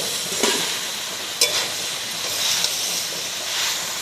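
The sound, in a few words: sautéing chickpeas, banana flower and potato in a pan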